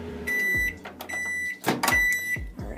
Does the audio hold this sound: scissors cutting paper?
no